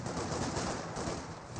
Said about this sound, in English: Royal Engineers do get suppressed by the MG42.